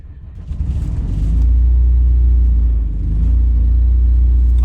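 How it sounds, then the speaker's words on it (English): An RV generator in storage cranking and catching, a low rumbling motor that builds within the first second and settles into a steady loud drone, dipping briefly before holding on. "So let's give it a crank and see what happens."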